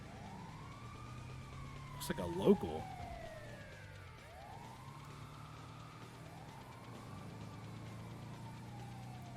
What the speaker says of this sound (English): Oh, nope, ambulance.